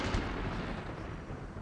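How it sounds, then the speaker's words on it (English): Lightning strike in the video game Gothic II, a loud booming thunderclap that cracks sharply at the start and then rolls off into a dense, fading rumble. "I obviously didn't notice, like, loud lightning strikes"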